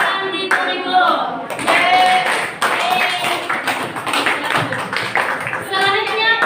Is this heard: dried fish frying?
no